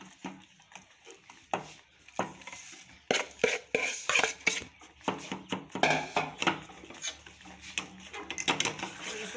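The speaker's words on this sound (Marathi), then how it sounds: "अशा प्रकारे कंटिन्युअसली फिरवत राहा" A spoon keeps stirring a thickening biscuit dessert mixture in a pan over a low gas flame, producing a steady run of close scraping, clinking strokes against the metal, with a little faint talk underneath.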